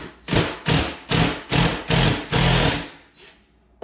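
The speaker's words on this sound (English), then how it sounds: "It helps to have an impact driver because these are mounted into the studs" Impact driver backing mounting-plate screws for a Whirlpool over-range microwave out of wall studs, five loud close rattling bursts in a row and then a fainter short one, with no voices.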